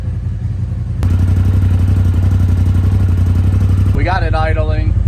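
A race machine's engine idles while warming up, a loud, steady low rumble that starts abruptly and holds for about three seconds, with voices talking around it.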